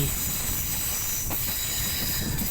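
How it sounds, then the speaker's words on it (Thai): A Thai passenger train rounds a curve on the approach to a mountain tunnel, and its wheels give off a steady, loud, high-pitched metallic squeal against the rails with no letup. "และจะสังเกตจะได้ยินเสียงล้อเสียดสีกับราง"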